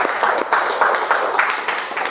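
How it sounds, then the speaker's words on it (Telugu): An audience applauds in a continuous patter of many hands, moderately loud and close, lasting only a couple of seconds. "so first of all Mounika మేడంకి ఒకసారి అందరు బిగ్ రౌండ్ ఆఫ్ క్లాప్స్"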